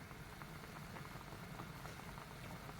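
A pot of tulingan fish soup with chili at a low rolling boil, a steady soft bubbling and patter, faint and continuous with no voices.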